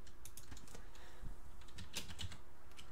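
Quick, light keystrokes clatter on a computer keyboard in a short irregular burst, close and fairly quiet.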